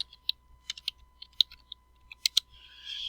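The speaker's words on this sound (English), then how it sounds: "I'm going to type in lengthen" Computer keyboard typing while entering an AutoCAD command: a dozen or so crisp, close key clicks in an uneven rhythm, fairly quiet, with a steady low hum underneath and a brief hiss at the end.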